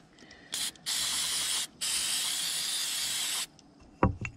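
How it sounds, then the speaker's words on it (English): Carb cleaner sprayed from an aerosol can on a workbench: a short burst followed by two longer, loud hissing sprays with brief gaps, close up, ending with a clunk. "Carb cleaner."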